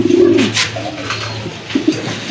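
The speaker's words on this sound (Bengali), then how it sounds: "খুবই চমৎকার এক জোড়া কবুতর" Pet pigeons at a market stall coo in a few soft, low, rolling phrases close by, with short pauses between the calls and no talk.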